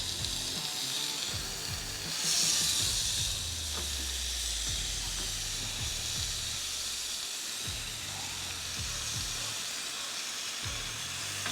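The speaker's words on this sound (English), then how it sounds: "That grill is sizzling, searing hot" Steady, loud sizzling hiss of lamb chops searing on a hot Ninja Woodfire grill, continuous throughout with faint clicks and crackles.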